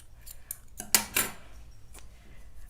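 Scissors snip through crochet yarn during a sleeveless jacket project, giving a couple of quick, close metallic clicks and cuts around the one-second mark in an otherwise quiet room.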